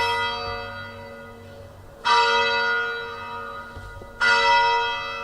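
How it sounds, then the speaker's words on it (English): A large church bell tolls loudly and close by, two strong strikes about two seconds apart, each leaving a long ringing decay with rich overtones. "A bell. It's a church."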